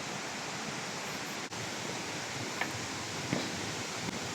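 Isarog Falls in Camarines Sur, Bicol, rushes as a steady, loud, broadband roar of falling water. The wash stays constant and close throughout.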